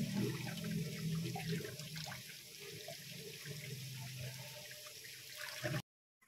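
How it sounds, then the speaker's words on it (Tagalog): Cassava rinsed under running tap water, a steady close splashing stream with shifting gurgles that cuts off abruptly near the end, no talk. "huhugasan natin ito sa running water."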